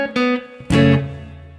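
A guitar picks out a song's melody as single notes with no chords, about three ringing plucked notes with a louder strum-like attack near the middle, close and clear with no voices.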